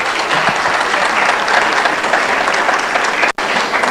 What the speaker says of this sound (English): please, with the warmest applause, round of applause